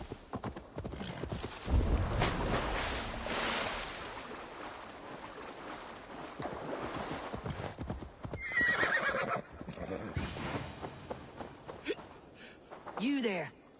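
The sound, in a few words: horse neighing in a video game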